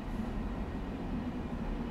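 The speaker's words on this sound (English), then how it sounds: "All right, train's leaving, going the other way, look." Harlem Line commuter train passing in the opposite direction in Train Sim World 2, a steady low rumble of wheels and carriages rolling by, continuous and fairly close, with no voices.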